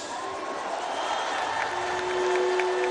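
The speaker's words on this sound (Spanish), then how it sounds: "Un aplauso para ellos." A large crowd at a Mexican presidential address applauds legislators, a broad, steady roar of distant clapping and cheering that swells slightly toward the end, with a faint tone running under it.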